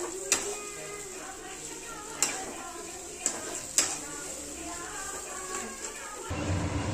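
Aloo paratha potato filling being stirred and mixed in a pan, with a soft steady sizzle and scraping, a few sharp clicks of the spoon against metal, and a muffled louder rumble near the end.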